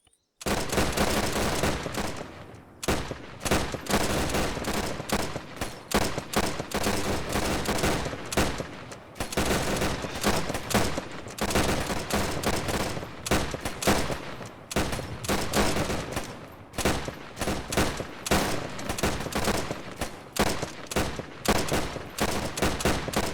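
A sustained volley of rifle fire in Arma 3, dense overlapping gunshots crackling loud and close for about twenty seconds with only brief gaps, suggesting many rifles firing together on command.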